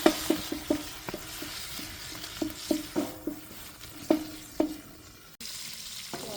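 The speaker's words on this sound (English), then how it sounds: "Bacon's starting to smell really good" Bacon cooking in a pan with fresh garden onions gives a soft sizzle under repeated light scrapes and taps of a utensil stirring, close and steady, with no talking.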